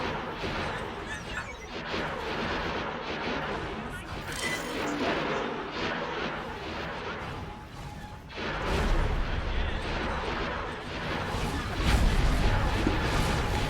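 Starship weapon fire and missile hits in a Star Wars mod of X4, dense continuous crashing bursts and booming impacts throughout, swelling louder near the end.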